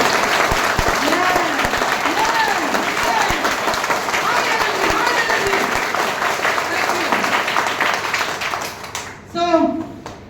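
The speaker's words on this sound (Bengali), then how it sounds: "তো জোরে হাততালি একবারে নিজের জন্য" Loud, sustained applause from a large audience at a motivational gathering, dense steady clapping with some voices mixed in, stopping abruptly near the end.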